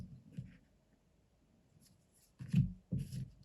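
Tarot cards shuffled by hand for a reading, faint soft rustles and a couple of short papery riffles near the end, close and quiet.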